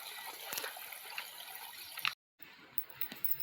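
Irrigation water runs from a pipe into a farm field, giving a steady broadband rush and trickle, close and fairly quiet, that drops out briefly near the end and then resumes.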